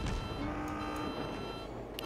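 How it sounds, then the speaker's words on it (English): In the naval combat game World of Warships, a ship's collision alarm sounds as a destroyer closes on an island. It is a quiet, repeating electronic beeping tone over low ambient game noise. "You can hear the collision alarm going off there because the game thinks I'm getting too close to this island."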